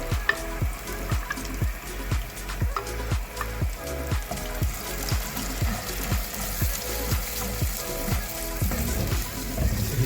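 Ground onion frying in hot oil for kadhi, a loud, steady sizzle with rhythmic scraping stir strokes about twice a second, close up and without speech.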